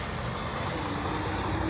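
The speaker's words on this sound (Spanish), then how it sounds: "mira, si alcanza a ver, viene el carro" A truck passes on the street, a broad steady rumble of road noise and engine filling the short moment, fairly close with no speech over it.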